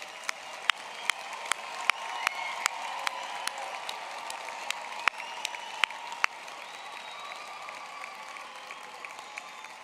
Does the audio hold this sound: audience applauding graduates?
yes